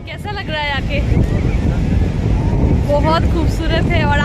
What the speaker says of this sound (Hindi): हवा चल रहा है बहुत अच्छा